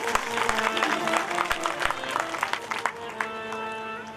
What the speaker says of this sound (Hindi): एक बार सभी के लिए ताली बजा दीजिए।